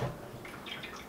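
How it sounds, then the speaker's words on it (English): Water trickles and splashes from the outlet hose of a milk pasteurizer, a soft, continuous flow with faint drips, quiet and close. "we just had water come out of the outlet hose"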